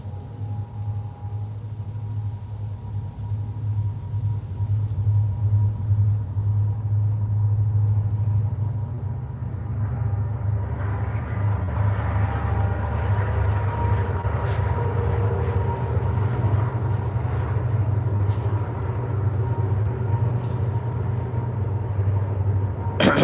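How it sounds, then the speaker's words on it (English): A passing train gives a long, loud, steady rumble of low droning noise that holds throughout, with faint clicks near the end and no speech. "Nope, not a jet. That's a train."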